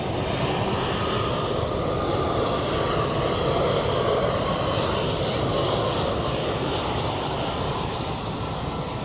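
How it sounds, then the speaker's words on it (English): An airplane flies low over Mackenzie Beach near Larnaca airport in Cyprus. A heavy, continuous engine roar fills the whole span at close range, with faint beach ambience beneath it. "If you're up that end of the beach, you can almost touch the planes."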